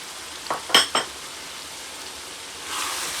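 Green chillies and green onion drop into sizzling minced keema, giving two or three quick bursts of hiss in the first second, then a soft steady frying crackle that swells slightly near the end.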